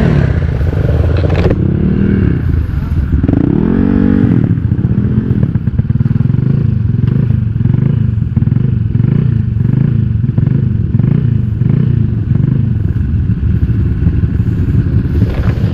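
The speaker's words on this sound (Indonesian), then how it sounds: "knalpot super bacot WRX GP5, tapi gue gak rekomendasi buat harian" Honda Vario motorcycles ride with a very loud WRX GP5 aftermarket exhaust, giving a close, rough, crackling drone with repeated rises and falls as the throttle is worked, plus some clattering and thumps.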